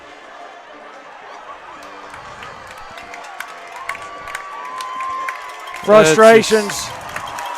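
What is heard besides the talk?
crowd cheering at a basketball game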